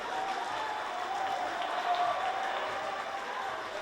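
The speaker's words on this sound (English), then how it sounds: "Clapping it up for the last 30 seconds of the third quarter." A packed high school basketball gym erupts in sustained crowd clapping and cheering near the end of the third quarter, a dense, loud, steady roar of applause from the student sections.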